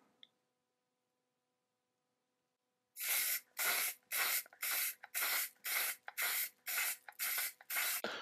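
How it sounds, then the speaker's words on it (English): After a few seconds of silence, a can of spray shellac hisses in about ten short, even bursts onto a wooden desk being restored, each lasting roughly half a second, close and loud. "And then I can lock everything in with some of the spray shellac."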